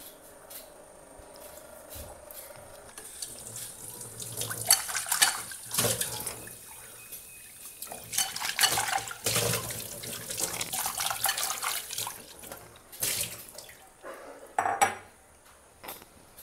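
Vegetables being washed at a home kitchen sink under running water, with splashing, clinking pots and utensils, and bursts of tap flow rising and falling, close and fairly loud, no talk.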